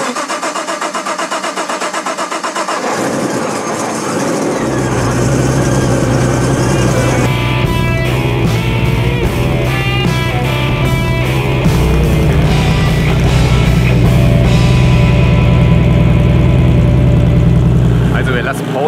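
A Nissan GTR R35 race car engine cranks and fires up, then settles into a loud, rough idle with occasional revs close by, while people talk in the background.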